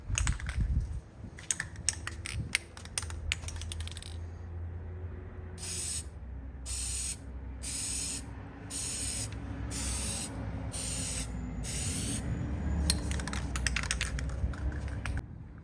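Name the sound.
spray painting coats on Honda CR-V emblem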